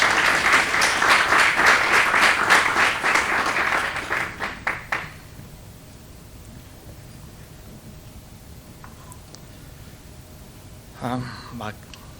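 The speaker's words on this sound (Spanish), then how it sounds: "Un aplauso, por favor, para ellos, para que se animen a salir." Applause from an audience at a design assembly event, loud and dense for about four seconds, then trailing off into scattered claps before quiet room tone; a voice starts speaking near the end.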